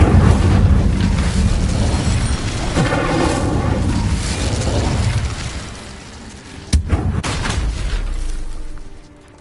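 Incendio fire spell cast in the Hogwarts Legacy video game, heard as loud roaring, booming bursts of flame with rumbling low end, a sharp crack partway through, then a fading whoosh, with no talk.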